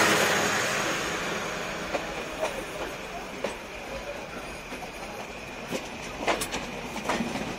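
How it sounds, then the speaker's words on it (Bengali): Bangladeshi express trains, including the Benapole Express and Mahananda Express, cross at a station. Wheels clack in a steady rhythm with occasional high squeals, heard from inside a carriage, moderately loud and with no talk. "তিনটি ট্রেনের সাথে ক্রসিং হয়ে গেল"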